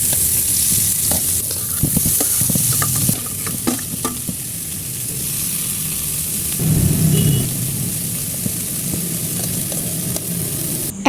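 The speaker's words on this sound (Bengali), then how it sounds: "চুলায় একটা তাওয়া বসিয়ে তাতে তেল গরম করে এই কাঁচা কলাগুলো সুন্দরভাবে দিয়ে দিয়েছি। এগুলোকে এপাশ ওপাশ করে ভেজে নেব।" Raw green banana slices fry in hot oil on a flat griddle, with a continuous close, loud sizzle, occasional spatula taps and a brief surge of bubbling midway, without any speech.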